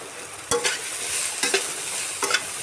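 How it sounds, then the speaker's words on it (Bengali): Soybean chunks fry in a pan with salt and turmeric, a steady sizzle broken by three sharp stirring scrapes, fairly close and with no voices. "সয়াবিনগুলো সুন্দরভাবে ভাজা হয়ে গেছে"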